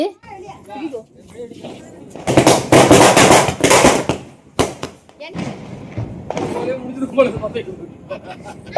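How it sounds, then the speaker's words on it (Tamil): Diwali firecrackers, including a long string of crackers, bursting during a family celebration: a dense, loud crackling barrage lasting a couple of seconds, framed by scattered pops, children's voices and lively chatter. "கீழே வந்து பட்டாசு வெடிக்க ஒன்று ஒன்று ஸ்டார்ட் பண்ணியாச்சு"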